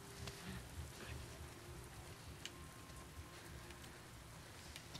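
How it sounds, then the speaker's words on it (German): Steady rain in The Last of Us Part II falls as a continuous hiss and patter throughout, even and unbroken with no talk over it. "Oh, Regen, das muss erfrischend sein"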